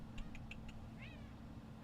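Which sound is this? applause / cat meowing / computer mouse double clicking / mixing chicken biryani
cat meowing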